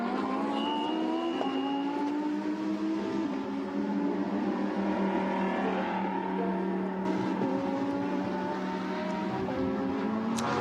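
Lamborghini Super Trofeo race car on the Yeongam circuit during a 2019 Asia series race, engine winding up through the gears with a loud, continuous rising whine held close and steady throughout.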